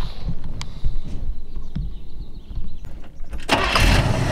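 A 1932 Ford Tudor resto-rod with a 350 V8 and electric choke cranks and fires up, low rumbling turnover building into a loud catch near the end, close by.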